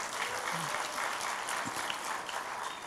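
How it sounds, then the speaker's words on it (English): Church congregation clapping in praise during a Sunday worship service, a steady dense wash of applause that fills the short stretch without a break. "Let's give God a clap of praise."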